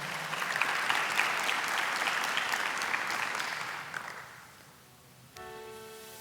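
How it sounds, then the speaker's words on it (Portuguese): A church congregation at Mass claps after the Gospel reading, a full round of applause that fades out after about four seconds before a sustained organ or keyboard chord enters near the end. "Vamos aplaudir a palavra?"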